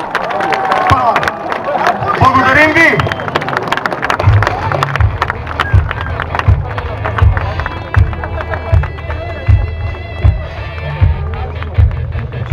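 Crowd at an air show in Sofia clapping and cheering as General Radev's MiG-29 rolls to a stop on the runway, a broad steady roar of applause with a low engine hum beneath and an announcer talking over it.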